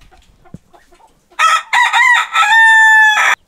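A rooster at a riverside campsite zoo lets out a single loud, close crow, rising and then holding a long drawn-out final note, after a few faint background sounds.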